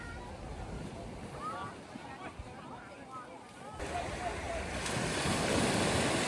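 Ocean surf washes in at an evening swim spot in Ireland, a steady broad roar that swells louder toward the end, with wind buffeting the microphone.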